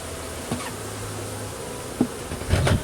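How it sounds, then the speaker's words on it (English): Honey bees hum around an open hive box while a feeder and cover are handled, a steady close buzz with a few soft knocks and a louder bee passing near the end. "Drop this frame back in. Nice happy bees."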